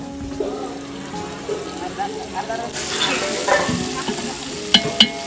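Spices frying for a tempering in a large pot during communal village cooking for a Shimga festival meal in Kokan, a rising sizzle with scraping stirs and a few sharp clicks near the end, under background voices.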